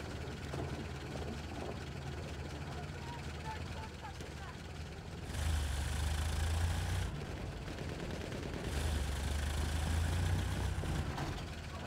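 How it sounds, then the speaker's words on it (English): An enemy tank engine in the video game Battlefield 1 rumbles in deep, heavy surges that swell loudly twice, over a constant din of battlefield noise with scattered shots and voices. "Did you see that? An enemy tank!"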